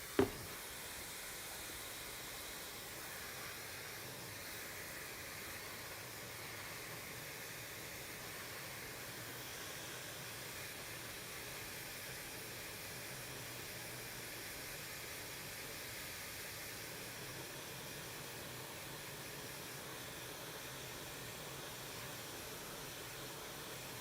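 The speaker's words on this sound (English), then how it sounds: "We have our wonderful candy cane blow dryer that we're going to be using, but I have found it is rather powerful." A powerful candy cane blow dryer blows over a watercolor painting of French macarons, giving a steady, even hiss of rushing air that runs unbroken and moderately loud after a short click at the start.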